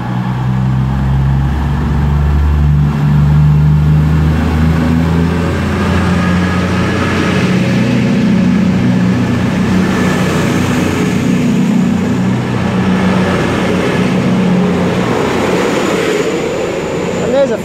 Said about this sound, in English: 9:54 cross-country service to Bristol Temple Meads. Should be departing any minute now.